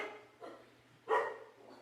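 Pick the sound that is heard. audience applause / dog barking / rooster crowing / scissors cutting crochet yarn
dog barking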